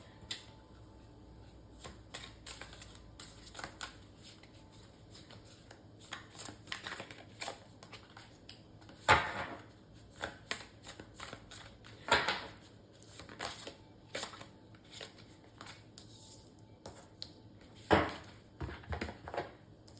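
A deck of oracle cards is shuffled close by: soft riffles and flicks, with sharper slaps now and then, over about twenty seconds.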